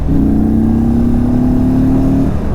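A 2022 Indian Chief Dark Horse motorcycle pulling hard in fourth gear, its engine note rising steadily under acceleration, loud and close with a smooth, continuous drone and no talking.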